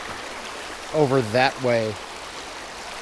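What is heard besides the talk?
swollen Verde River flowing over its banks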